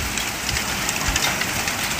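Heavy rain mixed with hail pours down during an extreme storm in China, a dense, steady hiss of drops and pellets striking surfaces, loud and unbroken, with scattered sharper impacts.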